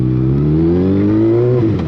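Honda CBR600F motorcycle with a custom exhaust, its catalytic converter cut out, revving loudly and close by, the engine note rising steadily through one sustained rev before dropping away at the end.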